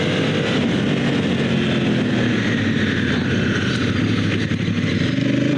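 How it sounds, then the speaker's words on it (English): A motorcycle on Metzeler Karoo Street tires runs fully leaned over with the throttle pinned open, a steady loud engine drone with wind rush throughout, no talking. "Fully leaned over, throttle pinned open."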